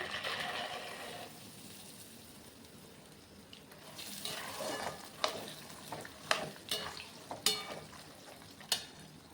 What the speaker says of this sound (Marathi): नंतर अर्धा किलो शेंगदाणे घेतलेले आहे ते पण तळून घ्यायचे आहे